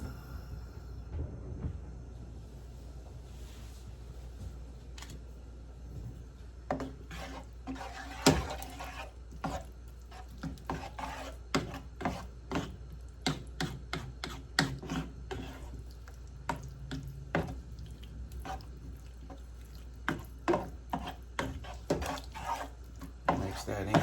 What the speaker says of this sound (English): Mix that in well.